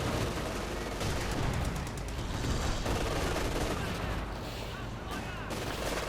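Dense battle gunfire from the World War II strategy game Company of Heroes 2 in a 1v1 match, a continuous loud crackle of rifle and machine-gun bursts with heavier booms throughout, without pause.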